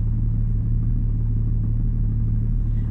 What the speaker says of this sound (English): We have tuned the exhaust,